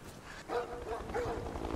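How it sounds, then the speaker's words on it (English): Dogs barking in the video game Beyond: Two Souls, a few moderately loud barks and yips spaced over a muffled game background. "I've got dogs already?"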